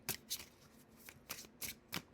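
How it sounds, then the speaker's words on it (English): A deck of tarot cards is shuffled in several quick, crisp riffles, each a short rustling burst, close and quiet with brief pauses between them. "Give these a few quick shuffles."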